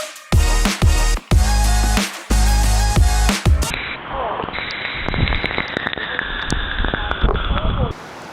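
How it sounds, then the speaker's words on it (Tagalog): Loud voices in the first few seconds, then a dense, steady hiss of heavy rain pouring down close by, with crackling spatter throughout. "Sobrang lakas ng ulan"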